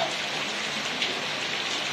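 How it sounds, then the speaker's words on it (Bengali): Heavy rain pours down under a darkened sky in a village, a dense, steady hiss with no breaks and no voices. "তেড়ে বৃষ্টি আছে, পুরো অন্ধকার করে এসছে।"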